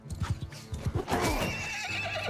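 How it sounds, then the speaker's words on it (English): A horse in Mount and Blade 2: Bannerlord neighs in a loud, wavering whinny, following a few quick clip-clop hoofbeats in a short, close battlefield moment. "you stunned my horse"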